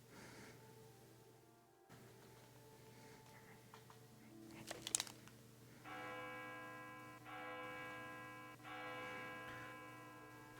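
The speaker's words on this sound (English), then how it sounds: "I'm gonna ring the bell." A school bell rings with a faint, bright tone, followed by several sustained electric bell rings in bursts over a low constant hum in a quiet room.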